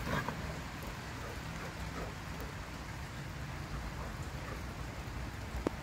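Steady rain falls outside across a garden, a dense even hiss of drops spattering surfaces throughout with no voices over it.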